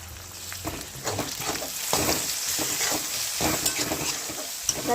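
Onions and tomatoes frying in a pan for pav bhaji, with a steady broadband sizzle and repeated scraping stirs of a spatula running throughout, close and fairly loud, without any talking.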